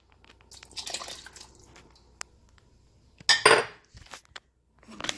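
Red wine sloshes and clinks as it is stirred into bone broth in a pot, with a few stirring scrapes and one louder splashy burst, close up and otherwise fairly quiet.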